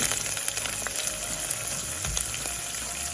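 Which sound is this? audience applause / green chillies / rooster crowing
green chillies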